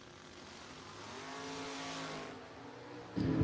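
Drag race cars accelerating at a spring drag racing event with a Mustang convertible competing, a distant swelling engine roar rising in pitch, then a sudden louder burst at the end.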